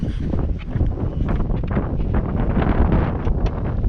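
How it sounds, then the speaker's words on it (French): Heavy wind buffets the microphone beside a Ford Mustang Bullitt in a continuous low rumble and roar, loud and steady throughout with no voices. "Il y a beaucoup de vent."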